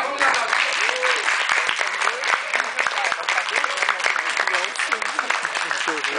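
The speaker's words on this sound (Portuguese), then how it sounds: "Vamos dar aplaudir o Rafael" A theatre audience applauds in a steady, dense burst of clapping that carries through the whole stretch, with voices calling out over the applause.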